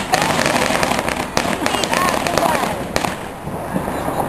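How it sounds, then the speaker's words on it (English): Firecrackers burst on a street in Beijing during Chinese New Year, a loud, dense crackle of rapid pops and sharper bangs without pause, with voices talking underneath. "They are firecrackers"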